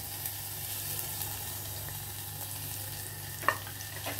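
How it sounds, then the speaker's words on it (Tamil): Onions fry in ghee in a pan with a steady, fairly faint sizzle, broken near the end by a couple of sharp clinks of stirring. "பொன்னிறமாக வறுக்கிறோம்"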